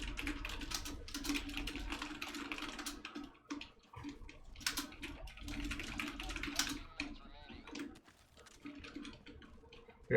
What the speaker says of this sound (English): so all I hear is your furious typing.